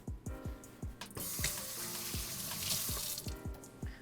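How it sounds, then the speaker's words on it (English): Hands being washed under a running kitchen tap, with a steady rush of water and intermittent knocks and splashes close by, and no speech. "let me wash my hands."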